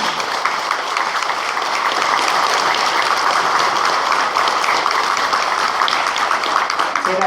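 Steady, dense applause from a church congregation at a Mass welcoming two nuns, continuous clapping throughout without voices standing out.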